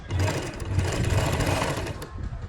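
A sewing machine stitches lace onto the edge of a dupatta, a close, steady run of rapid mechanical chatter that slows and eases off near the end.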